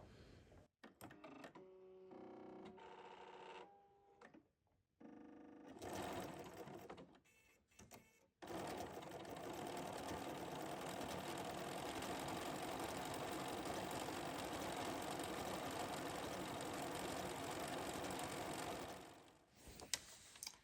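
An overlock sewing machine fitted with an overlock foot and a size 80 microtex needle test-stitches along a fabric edge, running in a steady, loud mechanical whir for about eleven seconds after a few short starts and stops.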